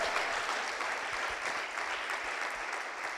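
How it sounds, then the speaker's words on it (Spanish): A church congregation applauds during a Spanish-language sermon, a faint, steady wash of many hands clapping heard from a distance. "vamos a darle un fuerte aplauso al Señor"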